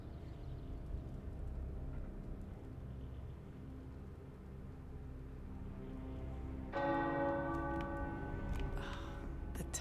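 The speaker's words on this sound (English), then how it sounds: "The tower bells are ringing." Tower bells ring out in the video game Marvel's Midnight Suns over a low rumbling background, entering clearly partway through with several bright, overlapping tolls that linger.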